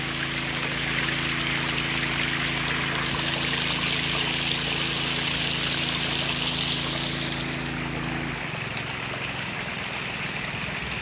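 A small mountain stream near the source of a river rushes and splashes steadily, with a low engine-like hum underneath that cuts out near the end, leaving only the flowing, falling water.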